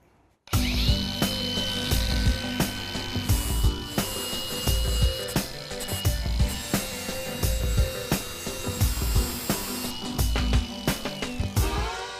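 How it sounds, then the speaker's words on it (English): A hand angle grinder with an abrasive disc works on relatively thin steel, making a loud, continuous, close grinding whine with rhythmic surges in pressure as the disc is moved across the surface. "I'm just using an abrasive disc on a hand angle grinder, and it's working very well"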